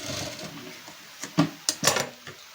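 A sewing machine stitches a double seam on a katori blouse in a few short, clattering bursts, and quieter fabric handling fills the gaps.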